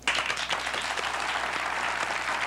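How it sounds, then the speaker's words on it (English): Applause from a studio audience follows a 1988 campaign interview program, dense continuous clapping lasting a couple of seconds, fairly loud and steady. "I don't think I'm supposed to be applauding you."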